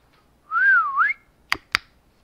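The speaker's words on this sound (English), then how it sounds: "whistling." A person whistles a single rising-and-falling melodic phrase up close, followed by two sharp, brief clicks or taps, with no talk over it.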